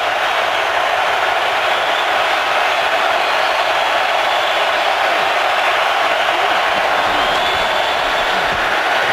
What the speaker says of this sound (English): if this crowd gets loud, and it's getting pretty loud here in Minnesota today